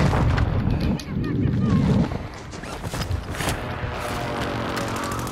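Gunfire and blasts in a Call of Duty Resurgence quads match on Ashika Island: repeated loud shots and booming hits crowd the start, then continue more sparsely under voices talking.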